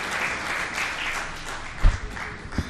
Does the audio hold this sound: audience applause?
yes